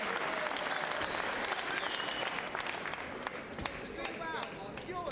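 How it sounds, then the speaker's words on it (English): A boxing crowd applauds steadily through the Vladimir Virchis vs Michael Sprott bout, a dense, sustained wash of clapping with scattered sharp claps standing out, while a commentator talks over it. "And the crowd applauding his efforts here."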